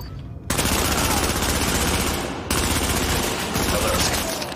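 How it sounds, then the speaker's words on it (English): Gunfire in Tom Clancy's The Division at Grand Central Station: dense, sustained bursts of automatic fire start abruptly after a brief quiet, loud and continuous, with a short dip partway through before the shooting resumes. "Reporting gunfire in the station above us"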